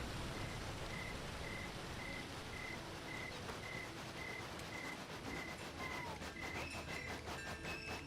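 A train runs along the tracks in a video game, a soft, steady rolling rumble with a regular series of faint beeping tones and some clicking near the end; no speech.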